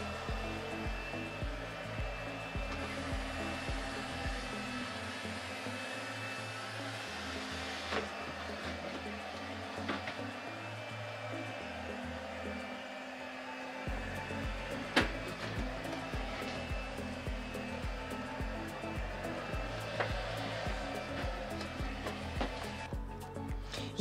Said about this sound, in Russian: И также прохожу пылесосом.